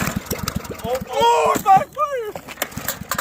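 The diesel engine of a lawn mower being run hard in a torture test rumbles and sputters with uneven, chugging bursts, partly buried under excited shouting nearby.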